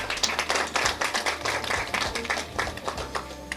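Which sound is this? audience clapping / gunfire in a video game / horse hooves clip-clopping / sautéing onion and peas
audience clapping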